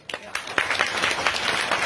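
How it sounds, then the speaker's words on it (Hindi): Audience hand clapping during a spiritual discourse gathering in Uncha Gaon, with scattered claps building into brief moderately loud applause alongside faint talk. "आप लोग कोई ताली बजाए"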